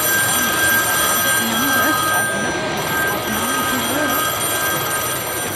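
Several telephones on a simulated Titanic switchboard ring together in a loud, continuous jangle of overlapping bells, with a voice talking underneath.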